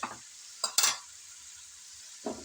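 Mashed brinjal paste is stirred and roasted in masala in a pan: a few brief scraping stirs over a faint sizzle, close by and spaced apart, with no speech.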